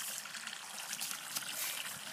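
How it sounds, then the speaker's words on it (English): Floodwater trickles and burbles steadily over a small homemade dam, a quiet, continuous wash of water with no talking. "And it has now started to overflow over the dam that we made."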